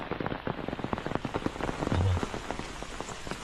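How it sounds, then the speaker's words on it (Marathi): Rain pattering on tree leaves in the forest near a waterfall, a close, dense stream of drops with a brief heavier gust midway, no voices. "आवाज झाडांच्या पानावर पडणाऱ्या पावसाच्या थेंबांचा"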